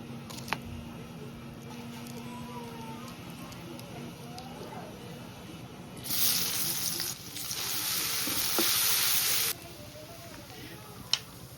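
Small fish fry in a wok until they turn black. Quiet stirring and faint background noise open the passage, then a loud sizzle bursts out for a few seconds before fading back to low rustling.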